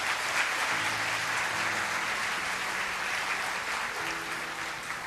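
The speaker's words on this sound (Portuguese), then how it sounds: "Aplauda o Senhor Jesus por isso." Church congregation applauding during a sermon, a steady, even wash of many hands clapping at moderate loudness for several seconds, with faint low tones from an organ or keyboard underneath.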